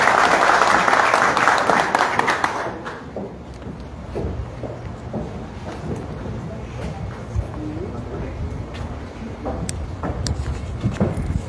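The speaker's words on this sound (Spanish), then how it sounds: "Daniela Gutiérrez, para quien pido un fuerte aplauso" An audience at a launch event for direct flights from Palmerola to Roatán gives loud, dense applause for about three seconds. It then drops away, and a voice begins speaking over the room's murmur.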